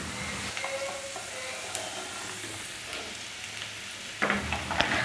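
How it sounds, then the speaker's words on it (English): Sliced onions and a sliced green chilli sauteing gently in coconut oil for a Kerala-style pea curry, giving a steady soft sizzle with light stirring clatter that grows louder near the end, no voices. "Scatter in some sliced onions and a sliced green chilli and saute them gently."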